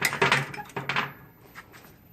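A metal tray of smoking pork butt scrapes and clatters as it slides back into a hot smoker over the fire, with two quick close bursts of metallic rattle that fade into quiet.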